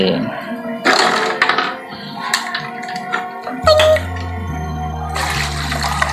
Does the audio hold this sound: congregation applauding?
no